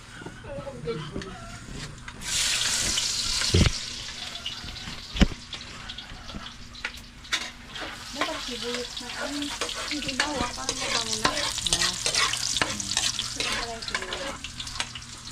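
Food sizzling and being stirred in a pan during a home sauté, a steady fry with occasional scraping and clinks, water running at times, and people talking over it.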